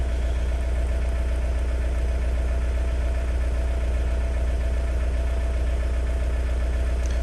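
A Volkswagen Mk4 ALH 1.9L TDI diesel engine idles steadily up close, a loud continuous rumble with a fine rhythmic diesel clatter and no breaks.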